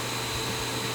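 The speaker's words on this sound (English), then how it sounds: "you'll hear the vacuum come on" A shop vacuum attached to an orbital sander in a pattern-making workshop runs with a loud, steady whooshing hum, with no talk over it.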